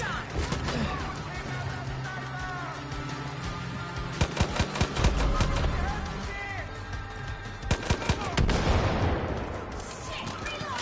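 Rapid bursts of gunfire from the video game Far Cry 5, sharp cracks and rattling volleys, loud and close, with several heavier impacts midway and a blast-like rush near the end, under continuous game background noise.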